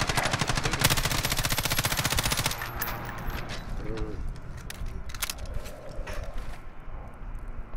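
Rapid automatic gunfire from a shooter video game, a dense burst of shots for a couple of seconds followed by scattered single shots and quieter game ambience with faint voice.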